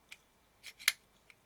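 A few faint, small clicks of a pre-Ai Nikkor 50mm f/2 lens element being fitted back into its barrel, close up in a quiet room, the third tick the sharpest.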